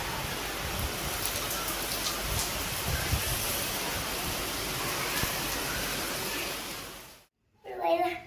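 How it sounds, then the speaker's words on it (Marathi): Heavy rain falls in a constant, loud wash of hiss that continues for about seven seconds, then cuts off abruptly and a short voice follows. "एवढा वाढलाय पाऊस"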